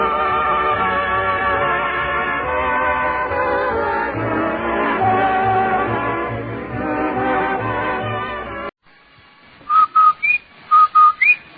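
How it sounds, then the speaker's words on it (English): Music plays for most of the stretch, then after a brief pause comes the Rinso White advertising whistle from an old-time Amos 'n' Andy radio broadcast: a few short, loud, clear whistled notes in a quick signature pattern. "That whistle. That's the Rinso White whistle."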